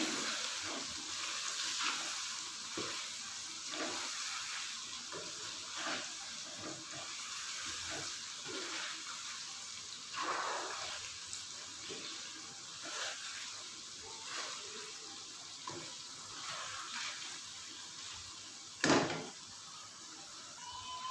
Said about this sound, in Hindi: थोड़ा सा डालते हैं पानी और इसको अच्छी तरह हम भून लेते हैं।